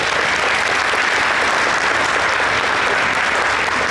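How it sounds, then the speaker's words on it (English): Steady, dense applause from a community audience at a morning mental health gathering at a YMCA, loud and continuous throughout with no break. "So give them a big round of applause"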